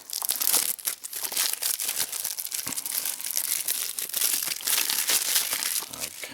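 Packaging of a Disney Infinity 2.0 PS Vita bundle being torn open, with continuous close crinkling and rustling of plastic and cardboard and no talk.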